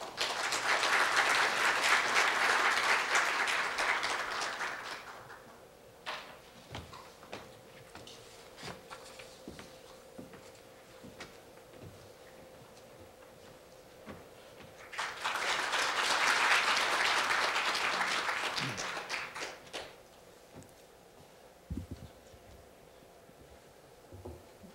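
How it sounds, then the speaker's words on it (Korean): Audience applause at a university forum, a burst of clapping for about five seconds, then quiet room noise with faint shuffling, then a second round of applause before settling again. "큰 박수로 부탁드립니다"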